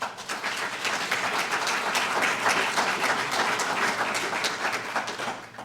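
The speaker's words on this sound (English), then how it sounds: "So give yourselves a round of applause." A keynote audience at a Molina Healthcare of Illinois event bursts into sustained applause, dense steady clapping from many hands filling the room at even loudness from start to finish.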